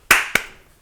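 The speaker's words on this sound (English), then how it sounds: "little double clap" A quick double clap in a song, two sharp, bright hits about a quarter second apart, the first louder, each trailing off with a short reverberant tail.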